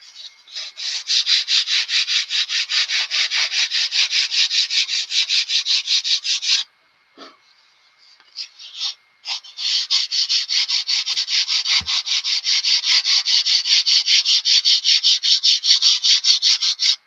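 Rapid back-and-forth sanding of a spruce wood part on a twin-engine model airplane, a steady loud rasping stroke repeated for several seconds, then a brief pause with small knocks before the even rhythm resumes close by.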